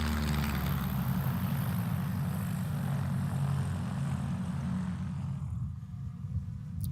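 A bush plane such as a Cessna 170/175 or Aviat Husky drones loudly and steadily with a low engine-and-propeller roar at a backcountry landing contest, easing slightly near the end.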